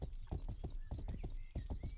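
Horse hooves in the video game Grand Theft Horse: a brisk, steady clip-clop of hoofbeats, fairly close and clear, with no voices over it.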